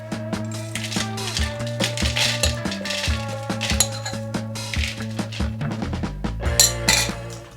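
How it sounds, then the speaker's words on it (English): Medium toast oak chips are dropped into a homebrew fermenter for a Flanders red ale, giving a quick run of light clinks and rattles that patter close by. "now I'm going to put those into the fermenter."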